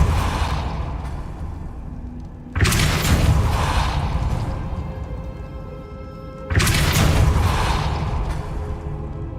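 Depulso spell in Hogwarts Legacy, cast twice: each is a sudden loud whooshing blast that decays slowly into a fading rumble, with mechanical game ambience underneath.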